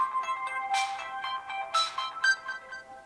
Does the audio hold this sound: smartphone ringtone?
yes